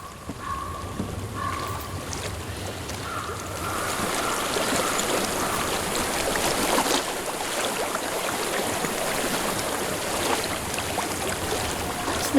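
Flowing stream water in Hellblade: Senua's Sacrifice, a steady broadband rush that holds throughout and grows slightly fuller midway, with a faint tonal hum in the background and no talk.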